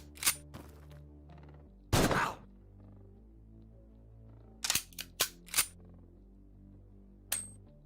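Gunfire in the game Quasimorph: sharp, separate shots, one heavy blast followed by a quick cluster of three or four cracks and a final shot, ringing over a low sustained musical drone with no talk.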